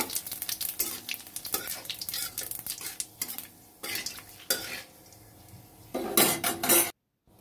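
Cumin seeds, bay leaf and dried chillies tempering in hot oil in a kadai, with loud clattering of a metal spoon against the pan over a sizzling hiss, ending abruptly in silence.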